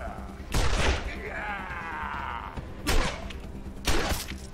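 Gunfire from the post-apocalyptic tactical game Wasteland 2: three separate loud shot bursts, each a sharp broadband crack with a short decaying tail, spaced about a second or more apart, with a whirring mechanical tone between the first two.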